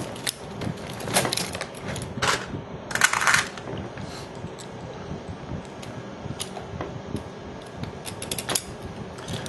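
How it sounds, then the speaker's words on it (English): Small metal nuts and bolts clink and rattle as a connector piece is fastened onto a 6P 7S battery pack, with scattered sharp taps and a few louder clicks over a steady background hum. "let's go ahead and put some nuts and bolts here and bolt this, and we're going to bolt this piece on here, connector piece"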